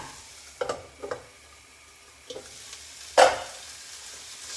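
Snow peas stir-fried in a pan, with a few sharp scraping stirs at irregular moments over a quiet background sizzle, close by and without talk.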